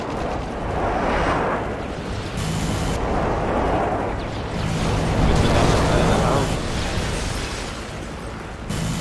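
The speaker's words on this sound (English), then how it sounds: "Enemy airstrike approaching." Airstrike explosions in a Call of Duty match land as a run of heavy, rumbling bursts, roughly four broad booms rolling one after another at steady loudness, with speech faintly underneath.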